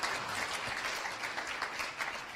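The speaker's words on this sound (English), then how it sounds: "Round of applause for these 9 seniors." An audience gives a round of applause for nine senior wrestlers at a Hudson Raiders wrestling event, a steady wash of clapping from a crowd that stays even and moderately distant throughout.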